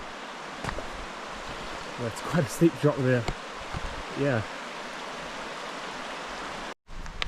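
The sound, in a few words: river flowing beside a campsite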